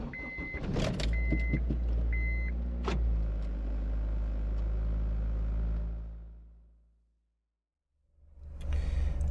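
Honda Acura car engine cranks and starts with a few sharp clicks, then settles into a steady idle close by before cutting out into silence and returning briefly at the end.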